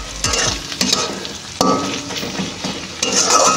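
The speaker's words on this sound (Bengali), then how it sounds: "এবার ভালো করে মিশিয়ে নেবো।" Fried onions sizzle in a pan as salt and turmeric are stirred in, with loud close scraping and clattering strokes over a steady frying hiss.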